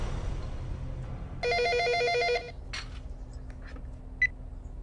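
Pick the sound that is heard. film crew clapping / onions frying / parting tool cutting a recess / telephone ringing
telephone ringing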